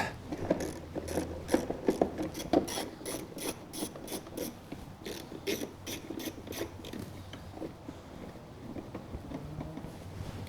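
A hand ratchet clicks in quick bursts as it backs out 10 mm bolts holding the cover on a Jeep Rubicon's auxiliary battery, close and crisp, with pauses between runs and faint background hiss.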